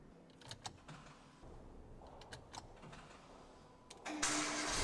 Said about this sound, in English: enabling the car to be started